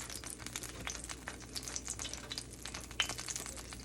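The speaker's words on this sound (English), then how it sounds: "we're going to put some of those red purple onions inside of our skillet here" Red onions sauté in a skillet with a steady, close frying sizzle and crackle, brief pops spiking through the hiss, no voices present.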